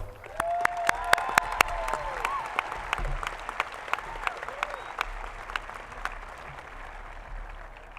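A graduation ceremony crowd claps for top scholars in a large hall, producing sustained, fairly distant applause with sharp individual claps and a few cheers, and a voice briefly speaks over it.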